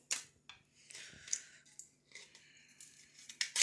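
Scissors snipping open packaging in a kitchen while making Funfetti cupcakes, giving several crisp, close crunching snips and rustles with short gaps between them, fairly quiet overall.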